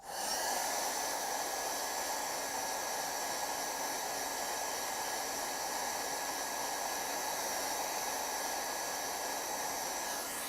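A hair dryer blows a steady, close whoosh over masking fluid on a painting, running loud and unbroken for about ten seconds.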